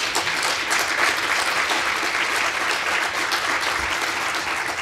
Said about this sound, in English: yes, applause to them